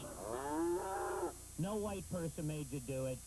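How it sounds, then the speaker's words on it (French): Cattle in open Oklahoma fields low with one long, drawn-out moo, then a string of shorter calls, all close and clear over a faint steady hum. "C'est le Midwest avec des champs à perte de vue et des vaches, beaucoup de vaches."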